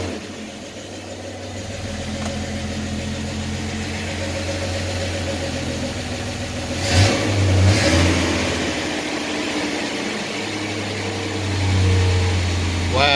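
A Chevrolet S10 pickup with a worn-out engine, started after sitting for about a month, runs at a steady close idle with a couple of brief revs rising over the drone.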